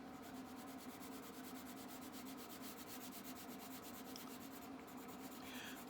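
A crayon is rubbed back and forth in an even layer, making a faint, steady, close scratchy rhythm of quick strokes with no talking.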